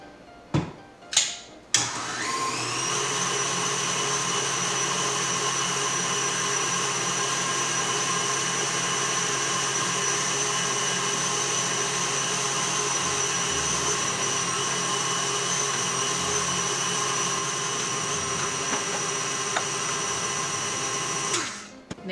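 An electric mixer beats cookie dough for chocolate chip and peanut chip cookies: a few clicks start it, then a loud steady whirring drone runs close up for about twenty seconds before winding down.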